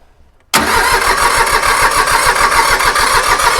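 Small Iseki diesel tractor engine firing up suddenly after near silence, then settling into a loud, close, rapid chugging idle.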